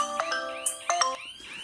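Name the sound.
smart alarm system ringing with an incoming call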